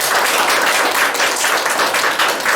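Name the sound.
church congregation applause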